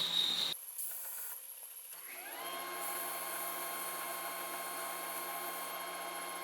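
Belt grinder with a soft platen grinding a knife blade to keep the plunge line sharp: a steady, loud abrasive whine and hiss that starts after brief scraping and holds evenly to the end.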